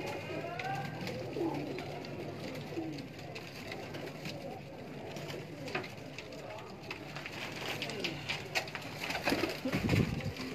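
Pigeons at a breeder's loft in Lahore's old walled city near Delhi Gate coo softly and steadily through a dense, noisy backdrop, with a louder swell near the end.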